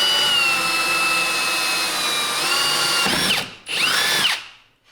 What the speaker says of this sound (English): So you drill your first hole.